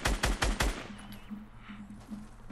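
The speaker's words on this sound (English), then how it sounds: "Bro, somebody's shooting at me." Fortnite gunfire: a burst of four loud, rapid close shots, followed by quieter in-game sounds and faint tonal effects.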